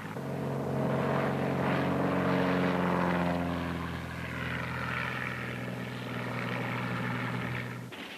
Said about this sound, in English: pontoon planes make use of lakes and rivers for takeoffs and landings